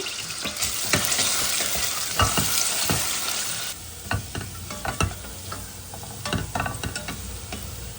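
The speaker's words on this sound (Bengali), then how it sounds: "এটা এখানে তেলের ভিতর পেঁয়াজ আর রসুন দিয়ে দিচ্ছি, ভেজে নিচ্ছি" Onion and garlic frying in oil, a bright steady sizzle punctuated by repeated scraping stirs of a utensil in the pan, loud and close, the sizzle easing partway through.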